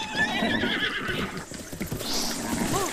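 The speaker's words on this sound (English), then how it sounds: "We'll go for Gray, the gray horse here" A gray horse in a video game neighs and whinnies repeatedly, loud and close, with clip-clop hoof sounds and ambient game noise underneath.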